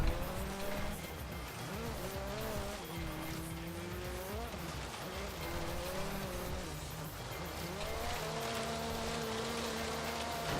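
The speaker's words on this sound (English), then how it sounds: "Got a little too much of a drift around that turn." A 1974 Toyota Corolla rally build drifts in Forza Horizon 3, its tires squealing over a loud, revving engine whose pitch swoops up and down through each slide, continuous and close.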